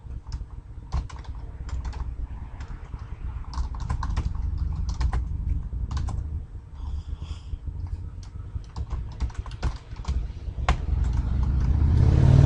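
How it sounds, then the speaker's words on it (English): Harley motorcycles passing outside a back patio, a low engine rumble that swells toward the end, heard beneath close, busy computer-keyboard typing that runs throughout. "there's motorcycles, Harleys driving by"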